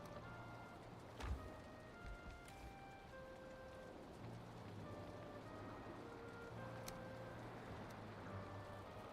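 Steady rain falls across a Valheim game world, an even hiss of drops with faint chime-like tones above it and one brief knock, no voice.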